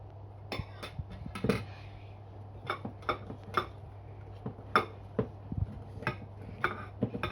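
Biscuit dough being mixed in a bowl, a string of sharp clicks and knocks of a utensil against the bowl at an uneven rhythm, close and clear, no speech.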